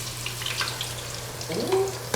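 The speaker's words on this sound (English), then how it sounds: "you should get a nice sizzle there too" Fresh fries sizzle in hot oil with a steady frying hiss, a few faint clinks and tones rising over it near the end.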